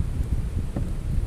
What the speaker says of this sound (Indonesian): Angin kuat kan.